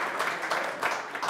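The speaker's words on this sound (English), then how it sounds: "I just want to give Norman a round of applause" Brief burst of crowd applause at a live Manchester United fan show event honouring Norman Whiteside, a dense steady patter of many hands in a room.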